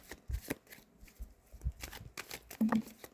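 Tarot cards are shuffled by hand in a quiet room, a series of soft, close riffling and slapping bursts with short pauses between them, plus one brief clatter near the end.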